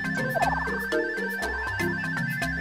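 P coin music from the video game New Super Mario Bros U, a bright, bouncy chiptune melody with a quick rising run and steady bass notes, playing loud and continuous.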